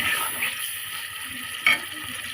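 Fresh pond fish frying in a pan gives a steady, close hiss and sizzle that carries through the whole short stretch, with one sharper crackling burst near the end and no talking.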